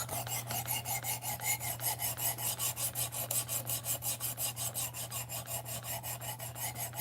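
Rhythmic rasping strokes of a blade drawn across a stone on a clamped knife sharpener, steady back-and-forth passes repeating about five times a second, close and even, with a constant low hum underneath and no talking.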